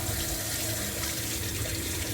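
Water streams steadily from a kitchen tap as red lentils are rinsed under it, a close and even hiss of running water with no talk.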